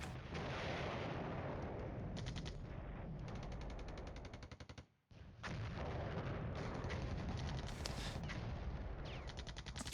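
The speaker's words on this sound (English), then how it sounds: "That mortar is still being annoying." Rapid, heavy gunfire and artillery in the Cold War strategy game Flashpoint Campaigns, loud continuous bursts that cut out briefly midway and then resume at full intensity.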